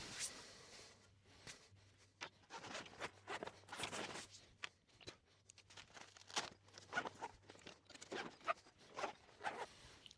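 Vevor camping kitchen station folding table being folded up, with scattered clicks, rustles and light rattling handling sounds in quick irregular bursts, fairly faint and close, no talking.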